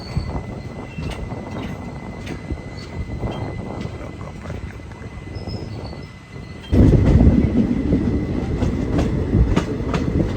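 A train pulls into Kollam Junction railway station with a steady rolling rumble and clatter from the wheels. The noise jumps louder partway through and stays loud to the end.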